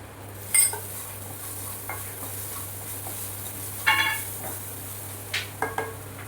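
Spices with a little turmeric and asafoetida are sautéed in a pan for coriander vadi, a soft sizzle under intermittent spoon scrapes and clinks against the pan, close up with no talking.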